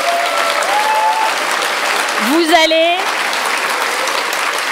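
Audience at a Greens (Europe Écologie) political rally in Grenoble applauding steadily throughout, a dense wash of clapping while a speaker's voice rises briefly over it.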